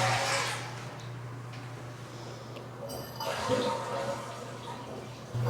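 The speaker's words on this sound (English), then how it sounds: "we're going to flush the toilet a couple of times." A toilet is flushed partway through, a rush of draining water over a low steady hum, with quieter trickling before it. The water supply has been shut off so the tank can be emptied for a bidet installation.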